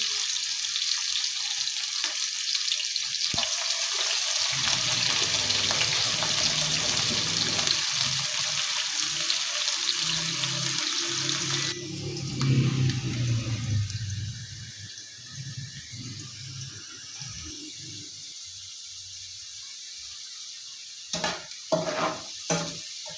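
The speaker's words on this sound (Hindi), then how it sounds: "अब प्याज को हल्का ब्राउन कर लेते हैं।" Onions frying in a pan and stirred until light brown, a steady close sizzle with scraping stirs that fades and thins toward the end, a few sharp clinks near the finish, for kabuli pulao.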